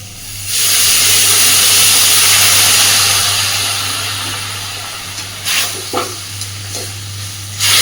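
Water poured into a hot pan of fish curry hisses and steams loudly at first, then the sizzle slowly fades, with a few clinks near the end.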